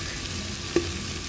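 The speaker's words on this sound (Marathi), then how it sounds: "जसे आता काजू फ्राय होतील ना, आपल्याला काजूचाही स्मेल यायला लागेल।" Cashews fry in a pan for masale bhat, a steady close sizzling hiss with one short clink of a spoon midway.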